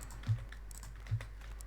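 Two isolated computer keyboard key presses used to steer in the racing game Assetto Corsa Competizione, each a short, close, soft click about a second apart with quiet hum between.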